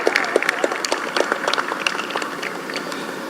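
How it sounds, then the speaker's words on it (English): An audience at a school graduation ceremony claps, with distinct individual claps standing out near the start before the applause thins and fades into a softer patter. "Another round of applause for the principal of Scarborough RC, Mrs. Bishops James."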